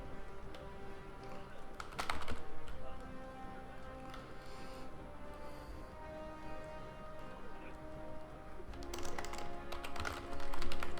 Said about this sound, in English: I'm actually typing something on Twitter about the game.